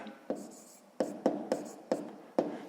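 Pen strokes on notebook paper during a sixth-grade maths exercise, a run of short scratchy taps and scribbles in an irregular rhythm, close and fairly quiet with no talking.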